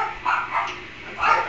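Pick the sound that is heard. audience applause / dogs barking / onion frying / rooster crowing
dogs barking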